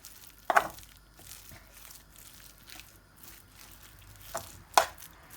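A spoon works through potato samosa filling in a pan, with a couple of distinct scraping knocks at the start and end and soft stirring between, close and moderately quiet.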